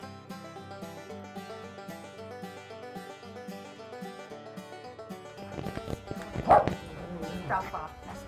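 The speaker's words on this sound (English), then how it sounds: "a dog comes along and she starts barking" A dog gives a few yips and barks on a back porch late in the clip, loud and close, after a stretch of background music.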